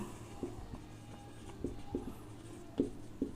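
A pen or marker writes on a board, a quiet, close series of short scratchy strokes and taps in an irregular rhythm, with no talk over them.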